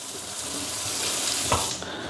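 Water running steadily from a tap in a house near Yagotyn in Ukraine's Kyiv region, a continuous close hiss and splash with a brief stronger gush partway through and no talking.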